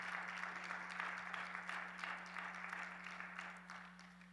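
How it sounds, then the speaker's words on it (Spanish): A church congregation at a Bible seminary class gives a strong round of applause to the Lord, a faint, steady wash of many hands clapping over a constant low electrical hum, fading slightly toward the end. "¿Cuánto le dan un fuerte aplauso al Señor,"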